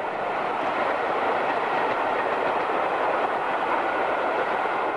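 A passing train hauled by a Black 5 steam locomotive over water troughs near Winwick, 1966–67, rumbles steadily, wheels and carriages producing a continuous loud roar with faint rhythmic clatter, no voices.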